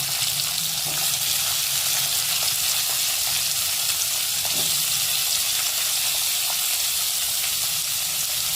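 Onions frying in a pan for a one-pot purple cabbage rice with mustard seeds and cumin, a steady close sizzle and hiss running evenly throughout with faint stirring clicks and no talk.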